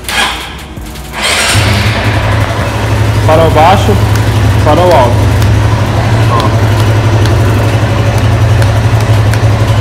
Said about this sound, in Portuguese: Deixa eu ligar a moto.